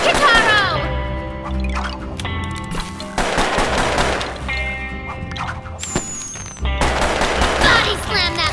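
Revolver gunfire from a twin revolver-wielding gunslinger boss in the video game Puppeteer, with bursts of rapid shots and crashes mixed into loud orchestral game music and effects.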